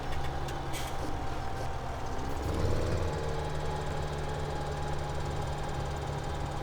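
A tractor engine in the video game Farming Simulator 17 idles with a steady low drone, swelling briefly partway through, heard alone without talk.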